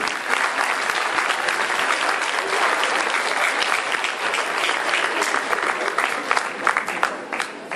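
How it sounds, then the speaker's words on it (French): A hall audience at a Téléthon thank-you gathering in Villabé breaks into sustained, dense applause that stays steady and loud throughout, with a faint murmur of the crowd beneath. "Oui, vous pouvez applaudir."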